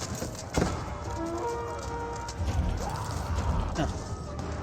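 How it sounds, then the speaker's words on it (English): Horse archer cavalry in the strategy game Age of Empires 4 moves with a busy patter of hooves under dense battle noise, with brief crashes and clatter throughout. "More horse archers being put on the field."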